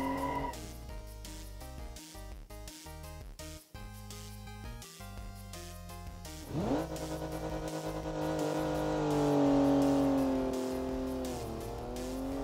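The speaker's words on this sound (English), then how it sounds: "This car has a surprisingly low grunt noise. It reminds me a bit of the modern hidden turbo V6 engines." A turbo V6 concept car engine revving hard, with rapid gear-like pitch steps early on, then a sustained rising and falling drone with tire squeal, loud and close throughout.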